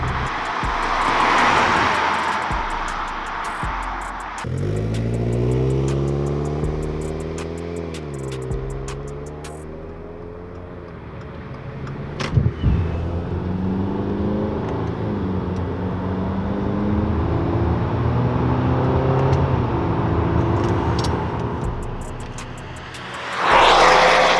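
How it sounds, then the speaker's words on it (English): Exhaust of a 2022-or-newer Subaru WRX fitted with an Invidia Q300 axle-back and resonated ultra-quiet mid pipe, a close engine rumble that rises and falls through several revs and settles. "Q300 Axle back, and then we paired it with Invidia's ultra quiet mid pipe."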